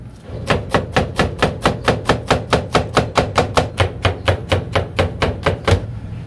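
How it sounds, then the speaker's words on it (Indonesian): A kitchen knife chops crushed garlic and slices ginger on a cutting board in a fast, even run of about twenty crisp, close strikes, each a sharp tap with a woody thud, with no talking. "Bawangnya cuma digeprek kemudian dicincang dan jahenya diiris tipis seperti ini"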